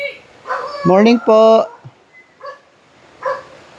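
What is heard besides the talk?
dog barking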